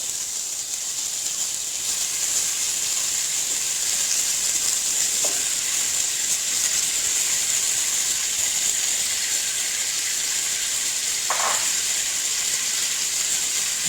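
Potatoes sizzle steadily in hot oil as they go into the pan for a mixed vegetable dish, a loud continuous frying hiss with a couple of brief clinks or stirs.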